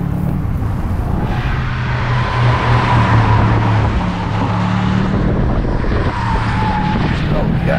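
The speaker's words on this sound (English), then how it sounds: "Every squeeze of the throttle is just this shove of torque." Bentley GTC convertible accelerating under throttle, a steady loud engine roar with rising pull, mixed with heavy wind rush, and a voice talking over it throughout.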